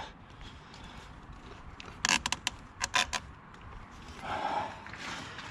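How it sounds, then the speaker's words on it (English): Vacuum hose pulled off the air intake of a 1995 BMW E36 318i, giving a cluster of sharp rubbery creaks and scrapes close by, then a soft rustle. "and then there's just pulling the vacuum hose off"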